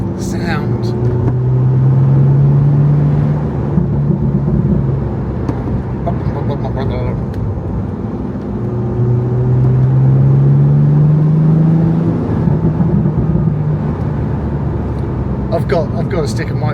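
A Morgan Plus Six's engine and exhaust while driving, rising and falling through revs in two long pulls with a throaty drone, with a voice speaking over it at times.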